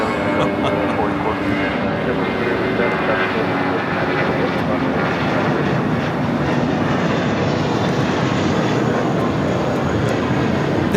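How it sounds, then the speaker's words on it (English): A United Airlines A320 takes off from Los Angeles toward Los Cabos, a continuous broad jet roar holding steady and fairly loud throughout, with no voices over it. "taking off to Los Cabos on the A320"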